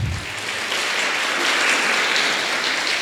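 A church congregation applauds, a dense, sustained wash of clapping from many hands that fills the space evenly and steadily with no voices above it.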